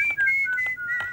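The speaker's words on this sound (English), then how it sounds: "I'm going to try to whistle one more time." A person whistles a short, bright wavering tune, clear and close, alone with no talk.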